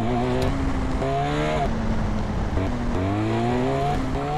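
A BMW R1250 motorcycle accelerates in GTA San Andreas, its engine whining up through repeated gear shifts in a steady rising-and-dropping pattern, loud and close.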